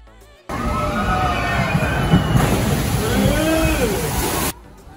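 Water sloshes and splashes steadily on an amusement park boat ride at Dream World Bangkok, a loud continuous wash that starts abruptly and cuts off near the end, with crowd chatter mixed in underneath.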